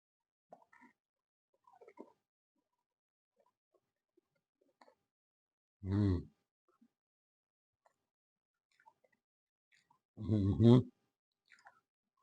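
Crunchy muddy buddies snack made with shredded wheat, peanut butter, chocolate and powdered sugar being chewed, two short loud crunching bursts close up, separated by quiet pauses with faint small clicks.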